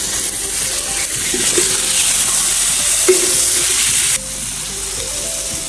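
Tilapia fish frying in a very hot, smoking pan gives a loud, steady sizzle throughout, with faint scraping stirs and the hiss dropping slightly near the end; no voices.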